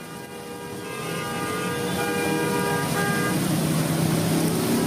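Car horns sound in a traffic jam on a flooded Jakarta road between UKI and Kebon Nanas: sustained, overlapping horn blasts over a dense rumble of idling traffic.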